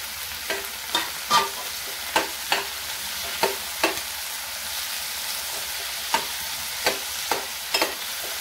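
Onion and chopped tomato being sautéed in a pan for a sandage vegetable dish, a soft steady sizzle broken by repeated sharp scrapes and clinks of a spatula stirring against the pan, close and alone with no talk.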